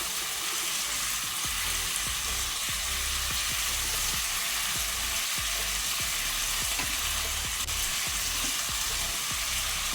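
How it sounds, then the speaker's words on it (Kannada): Pomfret fish frying on a tawa over medium flame fills the air with a loud, continuous close sizzle and crackle, with faint scraping taps as it is turned. "ಮೀನು ಒಂದು ಸೈಡ್ ಫ್ರೈ ಆಗಿದೆ. ಈಗ ಅದನ್ನು ನಿಧಾನಕ್ಕೆ ತಿರುಗಿಸಿ ಹಾಕುವ."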